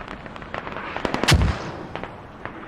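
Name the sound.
mortar fire in a video game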